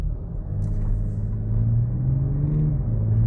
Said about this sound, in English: this 50d has a 3 liter turbo diesel straight 6